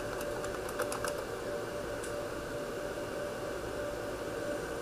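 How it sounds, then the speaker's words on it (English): Computer keyboard keys tapped in a short quick burst near the start, then one isolated keystroke, over a steady electronic hiss with no talking. "first we'll go to the search bar and type in regedit"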